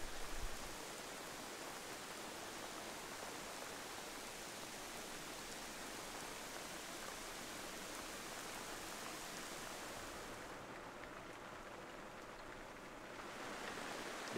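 Steady, dense rain from an outback storm cell pours down continuously, a broad hiss that stays even throughout with no voices.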